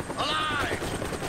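Helicopter in the video game Deadlight, a brief burst of rotor noise mixed with clattering, gunfire-like bangs and a rising whine, fairly loud and busy.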